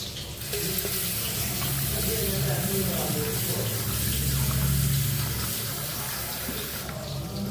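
Soaked tamarind is rinsed under a running kitchen tap, a steady close stream of water splashing into a sink for several seconds with faint handling noises.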